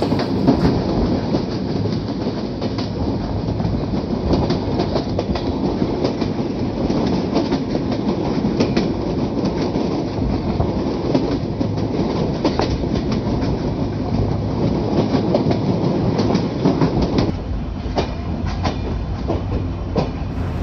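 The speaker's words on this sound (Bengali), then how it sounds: "এই মুহূর্তে আমাদের ট্রেন প্রবেশ করছে যশোর জংশনে" Ruposhi Bangla Express rolls into Jessore junction, heard from onboard as a continuous rumble with steady clickety-clack of wheels on track joints and a few sharper rattles, no voices.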